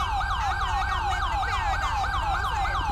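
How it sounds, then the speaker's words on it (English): Police car siren in GTA 5 wails steadily and loud, its rising and falling pitch sweeping about twice a second, with a low engine rumble beneath and no talking. "I'm gonna turn off the siren."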